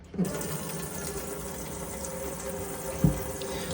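Water runs steadily from the hot side of a tap in a Compass Suntor 150 motorhome, a continuous close hiss with a couple of brief knocks, no voices.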